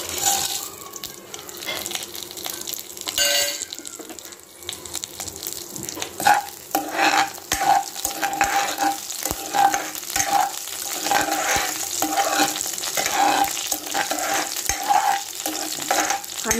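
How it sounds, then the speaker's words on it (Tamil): Dried red chillies, black pepper, cumin and coriander seeds sizzle and crackle in hot oil with steady frying noise, broken by scraping and stirring sounds throughout. "எண்ணெய் காஞ்சதும் ஒரு 5 காஞ்ச மிளகாய், 1/2 ஸ்பூன் மிளகு, 1/2 ஸ்பூன் சீரகம், தனியா 1/2 ஸ்பூன்"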